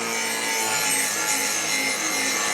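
An angle grinder works the end of a steel box blade to bevel it for a weld, a loud continuous abrasive hiss held close without break.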